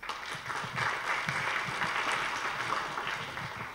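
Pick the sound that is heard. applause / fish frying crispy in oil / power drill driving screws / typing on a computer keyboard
applause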